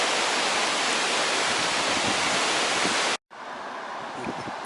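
The River Tees runs through rapids in woodland, giving a loud, steady broadband rush of water. It cuts out briefly near the end and then resumes slightly quieter.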